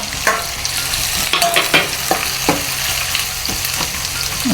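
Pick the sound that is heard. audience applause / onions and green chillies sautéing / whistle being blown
onions and green chillies sautéing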